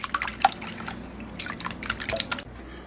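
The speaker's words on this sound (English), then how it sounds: "whisk this very good together" Nine eggs being whisked together in a bowl for cheesy scrambled eggs, quick light wet clicks and splashes in irregular rhythm, fairly close, with no talk.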